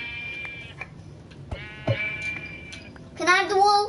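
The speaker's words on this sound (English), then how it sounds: "Sheep!" Sheep in a video game bleat in short wavering calls, with a louder, closer bleat near the end, over background game noise and a few soft clicks.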